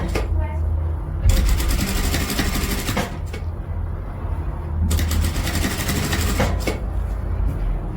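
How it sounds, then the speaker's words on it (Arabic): Sewing machine stitching the second side of a dress collar on a chemise-style abaya, running in two long loud bursts with pauses between, as someone speaks throughout. "غادي نخيط الجهه الثانيه."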